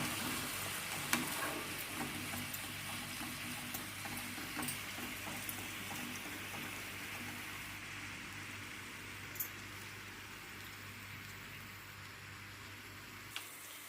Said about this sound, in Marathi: आता गॅस बारीक करून घ्यायचा आणि हे हलवून हलवून घालून घ्यायचं